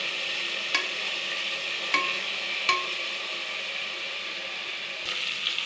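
Brinjals stuffed with masala frying in oil in a pan: a continuous close hiss and sizzle, with a few soft knocks of a utensil spaced through it, and no talking.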